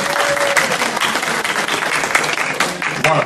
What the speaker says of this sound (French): on peut les applaudir pour les encourager sur le chemin